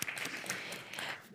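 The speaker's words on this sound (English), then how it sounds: "you get a clap too" Brief, moderately faint clapping from a small audience at an academic memory studies panel, a short burst of hands for a speaker that tapers off quickly.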